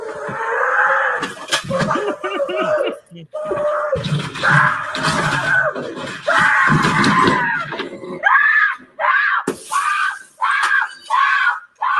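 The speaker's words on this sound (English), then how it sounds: "Why is she screaming like that?" A woman screams over and over in a tense game scene, her cries loud and close, broken by short pauses and rising into higher shrieks toward the end.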